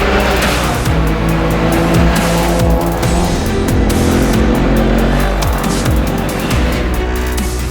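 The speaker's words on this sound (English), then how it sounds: "Vryburg CBD was treated to 40 racing cars in convoy doing a parade on Friday morning before the race got underway." Off-road racing cars rumble through a town centre in a convoy parade before the Molopo 500 in Vryburg, engines loud and layered with repeated revs and passing roars, one after another.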